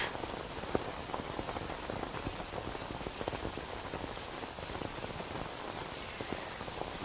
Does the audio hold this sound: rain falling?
yes